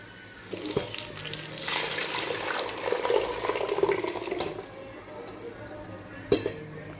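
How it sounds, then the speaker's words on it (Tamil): Water poured into a pan of Thanjavur-style fish curry (kuzhambu) with a blended onion, tomato and masala base, splashing and gurgling for a few seconds, then a brief clink near the end. "குழம்புக்கு தேவையான தண்ணியை ஊற்றிக்கலாம்"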